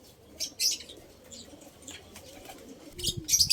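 Soft, low pigeon coos murmur on and off amid faint chirps and a brief flutter of wings, with one fuller coo near the end.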